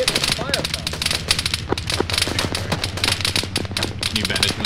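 Rapid video game gunfire rattles in quick repeated bursts, loud and close, running continuously beneath voices talking over it.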